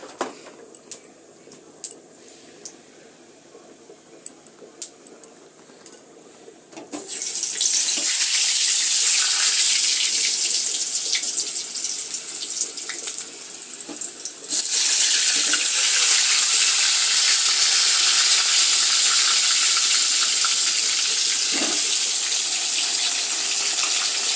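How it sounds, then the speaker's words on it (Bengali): Cumin seeds and bay leaves frying in hot oil, a steady loud sizzle that begins suddenly after some faint clicks and small knocks, then grows hissier partway through and continues without a break. "জিরে আর তেজপাতা ফোড়ন দিলাম"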